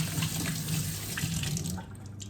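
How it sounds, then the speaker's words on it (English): Tap water runs steadily into a kitchen sink as hands are washed, a close hissing splash that cuts off shortly before the end. "I'm gonna wash my hands"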